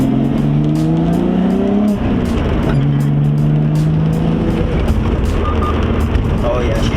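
Nissan GT-R fitted with new fuel injectors cruising smoothly, its engine note rising and falling through gear changes in a steady close drone, with someone talking over it.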